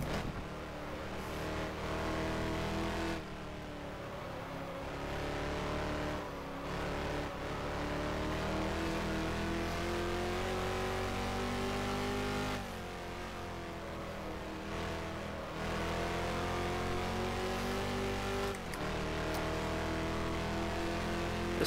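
Lola T70 race car in rFactor at the Solitude circuit, its engine roaring loudly and continuously, pitch climbing through gears with brief dips at shifts and a steady high-revving drone throughout.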